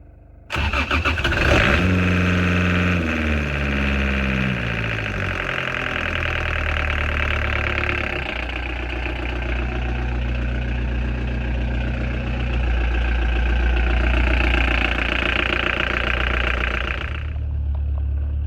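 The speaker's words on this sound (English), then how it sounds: "running the engine in neutral to heat up those lines and test our patch job with the clamps" A sailboat's marine engine cranks and catches, then settles into a steady, loud idle in neutral while moored in a bay, running continuously with a rough low rumble until it is shut off near the end.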